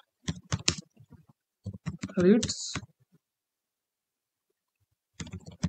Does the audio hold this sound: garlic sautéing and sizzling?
no